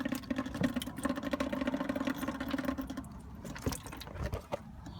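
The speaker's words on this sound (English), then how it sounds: "then from there the fluid is just going to drain out of there" Washer fluid drains from the removed washer pump of a 2004 Toyota 4Runner: a steady, close trickling and splashing stream over a low hum, thinning after about three seconds into a few scattered drips and knocks.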